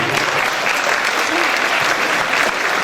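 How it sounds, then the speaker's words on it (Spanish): An audience at the Cantateo singing event of Festeo 2020 in Teo claps for the singers, a full, bright burst of applause sustained at an even level throughout. "Aplausos para vos, claro que sí."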